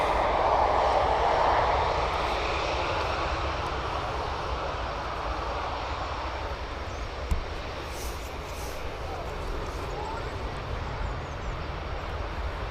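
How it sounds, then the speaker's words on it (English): EasyJet airliner engines at Birmingham Airport spool up before departure, a steady broad roar that swells louder at first, then settles into a sustained rumble heard from close by. "You can see the EasyJet's getting ready to depart"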